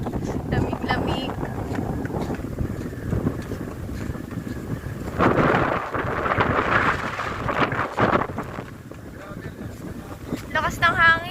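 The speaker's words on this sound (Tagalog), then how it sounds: "ang lakas na ng hangin at mukhang uulan" Strong wind buffets the microphone on an island in Roxas, Palawan as rain approaches, a steady roar with louder gusts and a boat-like rumble, with a voice briefly audible.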